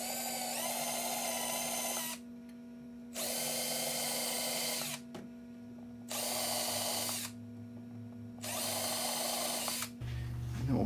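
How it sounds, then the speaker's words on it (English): A power drill whines through wood in four separate bursts of a few seconds each, depth set to a quarter inch, with short pauses and a steady low hum between them. "get out your drill that you just set the depth to 1/4 of an inch"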